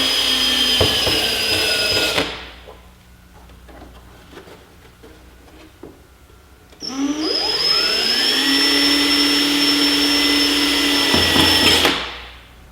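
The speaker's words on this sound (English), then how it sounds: "using a step drill bit, a unibit, I'm going to drill the mounting holes on the bosses they provided" A power drill with a step bit whines steadily through two bursts of boring mounting holes in plastic motorcycle race bodywork, the second rising in pitch as the bit spins up, with a quiet pause between them.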